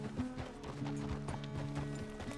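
Horse hooves clip-clop steadily in Red Dead Redemption 2, a regular rhythmic plodding under faint background sound and a snort or two, fairly quiet overall.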